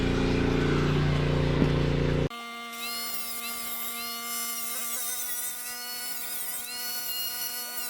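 A power tool cuts through a metal bottle opener on a small six-shooter crisscross design. A harsh, loud grinding roar comes first, then the tool spins on with a steady high whine and ringing tonal hum.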